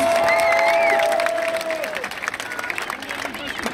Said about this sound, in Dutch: Geef me een groot applaus.